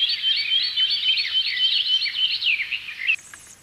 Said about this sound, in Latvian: Putnu ligzd guļu mazuļus vecāki pēc izšķilšanās ilgi baro un aprūpē